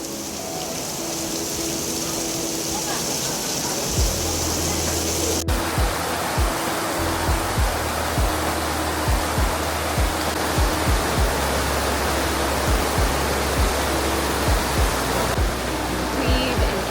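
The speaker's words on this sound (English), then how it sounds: "it started pouring down, so we're just gonna wait it out for a little bit" Heavy tropical rain pours down in Bangkok in a dense, steady roar, close and loud, with occasional sharp drips and thumps punctuating it; no voices.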